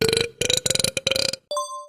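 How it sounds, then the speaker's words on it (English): A single long human burp, a loud, close, croaking rasp broken into several pulses over about a second and a half, followed by a brief clear tone. "Burp."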